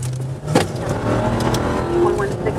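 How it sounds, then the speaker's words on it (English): A police car engine runs steadily during a pursuit, a continuous moderate roar with slight revving shifts, while voices talk over it. "45, I'm in pursuit of the vehicle."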